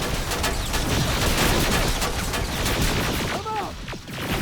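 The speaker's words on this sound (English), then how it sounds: "Under heavy fire!" Dense, continuous heavy gunfire in the shooter game Terminator: Resistance forms a loud, steady wall of rapid shots and explosions that eases slightly near the end, with faint voices mixed in.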